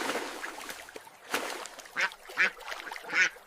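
Ducks quacking on a small farm, three distinct bursts of quacks near the end after a quieter stretch of low background murmur, fairly close and moderately loud.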